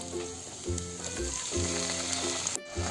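Garlic ginger paste fries in a pan with a steady, close sizzle, broken by occasional stirring sounds. No one speaks.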